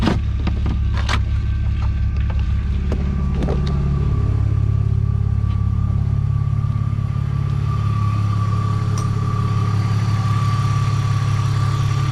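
A BMW E46 engine idles right after an alternator replacement, a steady loud low rumble running unbroken throughout, with a few faint clicks and taps early on and no voices.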